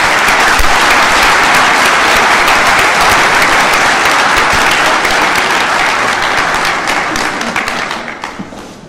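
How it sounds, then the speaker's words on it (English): A graduation ceremony audience gives graduates a loud, dense round of applause lasting several seconds before thinning into scattered claps and dying away. "Please let's give them a round of applause"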